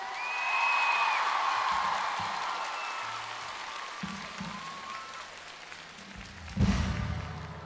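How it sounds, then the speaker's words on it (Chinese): A large concert crowd at a live show in Taipei applauds the band: dense clapping and cheering swell early, then thin out before a fresh loud burst near the end. "谢谢我们的乐手朋友们，给他们一点掌声"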